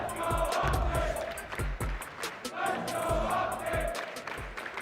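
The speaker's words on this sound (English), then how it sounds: "the crowd starts to get fired up for this map 4" An esports arena crowd at a Call of Duty Major match between Seattle Surge and Optic Chicago roars and chants, with rhythmic bursts of cheering and stomping that rise and fall in repeated waves.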